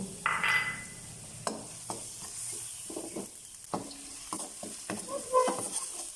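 Shallots frying in a pan, with a soft hiss of oil broken by intermittent scraping and stirring clicks that grow busier toward the end.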